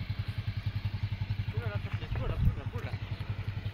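A motorcycle rides over a badly broken road, its engine thumping in a steady low pulse. A brief burst of rattling and jolting breaks in near the middle.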